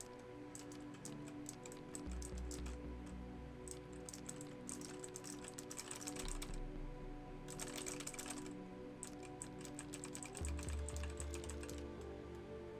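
Rapid, irregular keystroke clicks on a computer keyboard rattle on in bursts over a steady low hum, fairly close and moderately loud.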